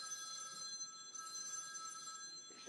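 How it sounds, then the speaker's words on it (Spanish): A telephone rings in a quiet room, a steady electronic bell tone sounding on and off, faint and alone with no talk over it. "Está sonando un teléfono."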